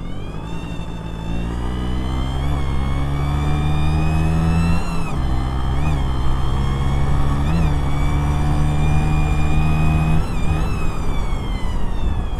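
A two-stroke Vespa engine revs and accelerates loudly and up close, its pitch climbing and dropping in repeated surges over a sustained buzzing drone.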